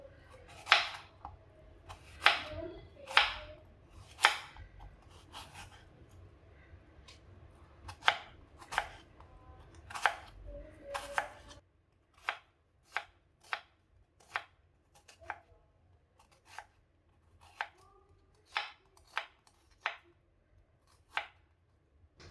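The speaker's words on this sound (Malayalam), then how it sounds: "ഇനി നമുക്കിതിനെ സ്ലൈസ് ചെയ്യാം." A knife slices onions on a board in a long run of crisp, regular chops, heavier and uneven at first, then lighter, evenly spaced cuts against a quieter background.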